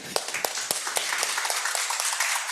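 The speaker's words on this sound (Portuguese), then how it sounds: "Uma salva de palmas para vocês" A small group claps briefly, a brisk patter of handclaps that starts sharply and holds fairly steady for a couple of seconds.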